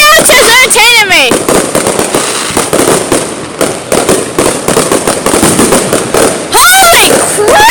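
Illegal consumer fireworks going off in loud rapid crackling bursts and pops, with whistling rockets at the start and end, while someone talks excitedly over the barrage.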